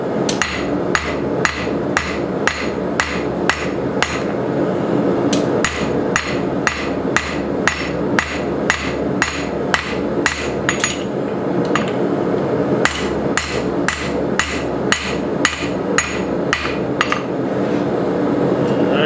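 Steady, rhythmic hammer blows ring on hot steel edges in a blacksmith shop, dozens of sharp clanging strikes in quick succession with a brief pause partway through.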